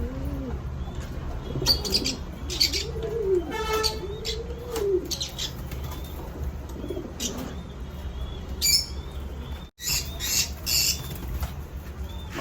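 Fancy pigeons and lovebirds in a breeder's loft make a busy mix of cooing, sharp chirps and squawks, with a brief burst of wing flapping, all nearby and fairly loud.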